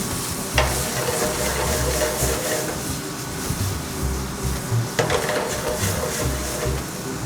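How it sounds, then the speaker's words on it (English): Red wine hits a hot pan and sizzles steadily throughout, with a couple of sharp utensil clinks and stirring scrapes over the continuous frying hiss. "Once my pan gets nice and hot, I like to add in a little bit of red wine."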